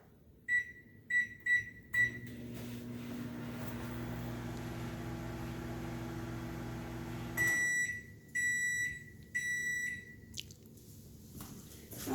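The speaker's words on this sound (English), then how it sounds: "we're going to put it in our microwave" A microwave oven heating mac and cheese in a mug on high power: a few sharp keypad beeps, then a steady low hum while it runs for several seconds, followed by a series of loud finishing beeps, close by and with no talk.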